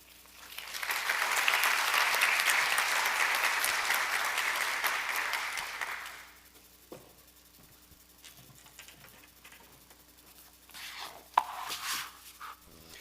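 Audience applause at a civil aviation symposium welcoming a guest of honor to the stage, a sustained wash of clapping that swells and then fades after about six seconds, leaving scattered claps and soft room noise.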